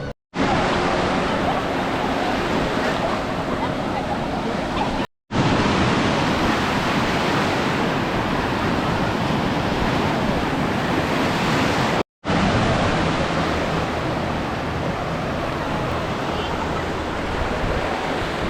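Calm sea on the Karnataka coast near Udupi and Mangalore: a broad, steady wash of surf and wind noise across three continuous stretches broken by brief cuts, loud and close, without clear talk.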